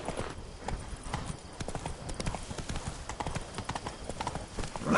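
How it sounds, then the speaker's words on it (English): Geralt's horse galloping in The Witcher 3, a rapid, continuous stream of hoofbeats that stays close and fairly loud for the whole stretch, with faint game ambience underneath. "Run, Roach."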